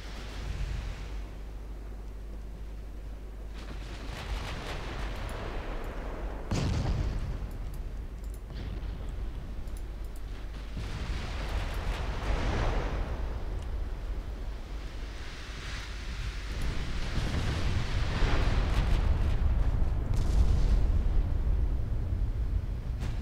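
Heavy naval guns boom from warships in the naval battle game Ultimate Admiral Dreadnoughts, with several deep, rumbling salvos rolling out across roughly twenty seconds over a constant low roar, and no one speaking.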